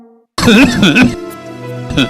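A single rough, voiced cough from a Multani cough syrup advert, close and loud, with a throat-clearing quality that trails off into a fading tone.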